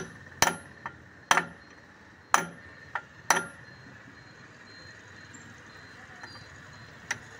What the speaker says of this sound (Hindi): हथौड़ी लेके धीरे धीरे मारना है